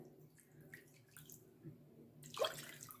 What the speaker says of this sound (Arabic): غادي نديرو الماء في اناء يكون كبير